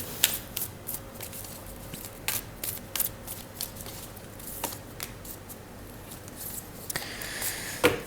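Tarot cards being drawn and handled from a deck, giving scattered soft shuffling and snapping clicks with brief broadband bursts over quiet room tone, no talking.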